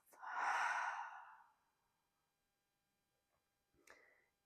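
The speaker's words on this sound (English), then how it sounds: "exhale through your mouth" A long, breathy mouth exhale during a yoga breathing exercise, close and soft, tapering off into near silence before a brief faint breath sound.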